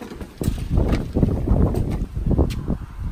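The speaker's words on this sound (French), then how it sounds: "il y a énormément de vent, donc attention vos oreilles" Strong outdoor wind buffets the microphone in a loud, continuous low rumble with gusty surges, at a house building site; no talking.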